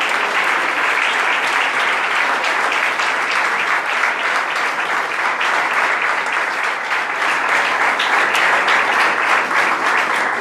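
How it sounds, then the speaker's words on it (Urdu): A church congregation gives loud applause for Jesus, a dense continuous clapping that stays steady for the whole stretch. "یسوع کے لیے زوردار تالیاں بجائیں۔"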